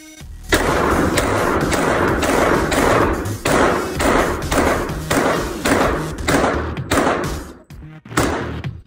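Rapid sequence of about a dozen loud, sharp 9mm Winchester Ranger 147-grain shots fired into body armor outdoors, each crack ending in a heavy thud, spaced roughly half a second apart.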